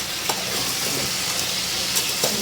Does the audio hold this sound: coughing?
no